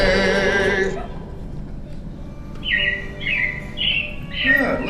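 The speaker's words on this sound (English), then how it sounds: "it looks like the Robins are getting ready to celebrate Valentine's Day today" Animatronic robins in Disney's Carousel of Progress give three short, bright chirping bursts that rise in the second half, coming after music fades and sitting over a low room hum.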